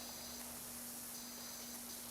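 A faint, steady high-pressure spray hiss from a pressure washer in PowerWash Simulator runs continuously and unchanging, quiet and broadband, with a constant low hum underneath and no voices.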